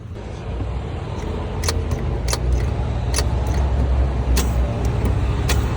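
Engine of a Lancia Beta Spider 2000 with twin-barrel carburettor, heard close: a steady low rumble that swells as it is revved, with a few sharp metallic clicks over it and no talk.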